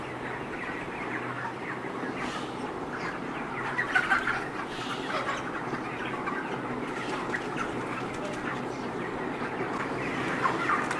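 Many chickens cluck continuously inside a large poultry farm shed, a dense overlapping chorus at moderate volume with occasional louder squawks over a steady background hum.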